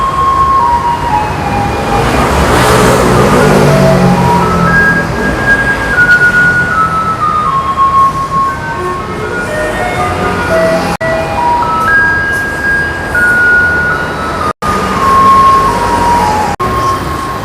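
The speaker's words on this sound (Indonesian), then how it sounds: "nah itu ada mobil sampah ya lewat." A passing garbage truck on a street plays a looping melodic chime tune, loud and nearby, repeating its phrase several times as it rolls past, with a few brief sharp clicks near the end.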